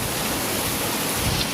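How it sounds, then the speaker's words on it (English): Steady rain pours down outside a home during a rainy day, a continuous, even hiss of falling water filling the short stretch with no voices or other sounds breaking through. "and it's still raining"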